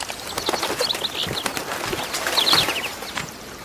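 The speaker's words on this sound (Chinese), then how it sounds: "这里的小鸟查了一下是树麻雀，也就是咱们生活中最常见的那种麻雀" Tree sparrows chirping with quick wing flapping in an animated film soundtrack scene from The Legend of Hei 2, with short bright calls over a soft outdoor bed and a few faint thuds.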